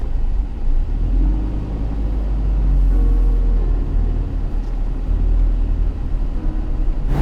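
A four-wheel-drive car engine labours in sand on a beach where a river meets the ocean, a steady loud low rumble throughout with no talk.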